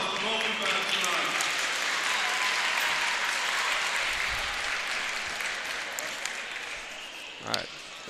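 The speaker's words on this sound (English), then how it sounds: "One last round of applause for both events tonight" A crowd at a high school wrestling meet between Bradley Central and Baylor School claps in steady, dense applause that fills the whole stretch and slowly fades a little toward the end.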